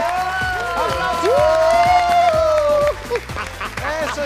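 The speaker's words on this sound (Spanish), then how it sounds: "¡Aplausos!" Studio audience applause welcomes an actor onto a Spanish-language talk show set, steady clapping and cheering running the whole time beneath a loud voice and music-like tones.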